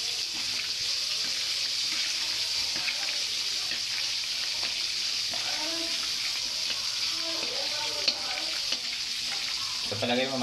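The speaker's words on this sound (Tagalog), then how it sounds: "kailangan masabuyan siya ng mantika at maluto yung loob" Bangus (milkfish) fries in oil with a loud, constant hiss and spitting crackle close up, while faint voices are heard underneath.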